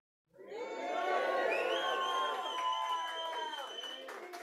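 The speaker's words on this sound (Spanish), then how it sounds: "¿Cuántos pueden dar un grito de júbilo?" A church congregation lets out a loud, sustained shout for joy, many voices cheering and crying out together, swelling quickly and holding for several seconds.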